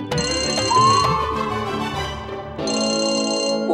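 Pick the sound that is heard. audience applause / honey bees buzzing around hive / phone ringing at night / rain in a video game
phone ringing at night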